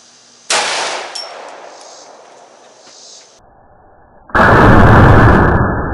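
A .50 AE handgun firing a golf ball outdoors cracks once as a sharp, loud report that rings off and fades, later followed by a sudden burst of loud, rough broadband noise.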